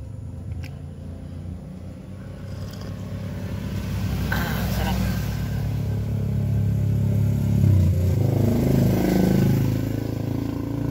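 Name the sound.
motorcycles passing by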